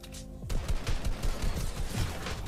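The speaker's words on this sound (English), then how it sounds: "Stop shooting at me." Rapid gunfire crackles in the Fortnite video game, a quick run of closely spaced shots following a brief tonal game sound at the start, moderately loud and steady for a couple of seconds.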